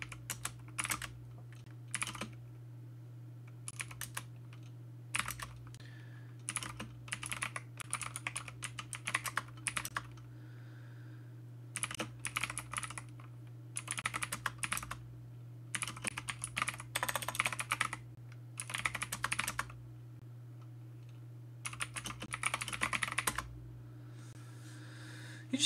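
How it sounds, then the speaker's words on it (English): Clicky mechanical computer keyboard typed in bursts of rapid, crisp keystrokes with short pauses between runs, close and fairly loud over a steady low electrical hum. "Yeah, it's a pretty good keyboard."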